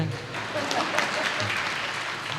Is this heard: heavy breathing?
no